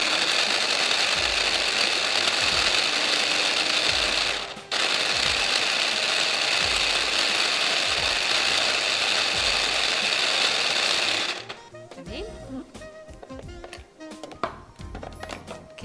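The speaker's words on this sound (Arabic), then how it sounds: "احنا ممكن نعمل الفراخ مفرومه بقى مع نفسنا." A grinder minces chicken for a spinach and chicken casserole, running as a loud steady mechanical whir that dips briefly, then stops into scattered clatter and handling noises.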